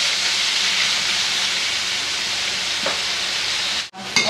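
Onions and aromatics browning in a pan for batchoy tagalog give off a loud, steady sizzling hiss that runs unbroken, with a brief drop-out just before the end.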